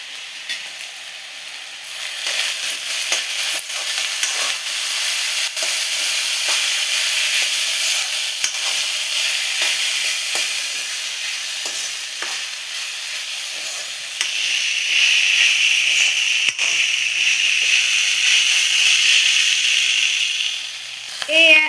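Vegetable fried rice with soy sauce, sugar and tomato ketchup fries in a pan. The sizzle is a steady close hiss with light stirring clicks, and it grows louder toward the end.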